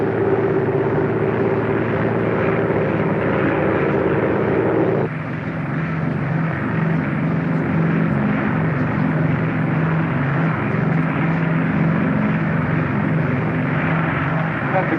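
Piston airliner engines drone steadily and loudly on a landing approach in 1950, a harmonic hum that drops in pitch partway through as power is reduced, with cockpit voices speaking over it.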